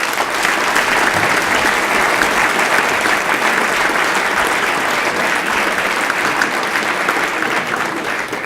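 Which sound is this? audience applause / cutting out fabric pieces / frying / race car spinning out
audience applause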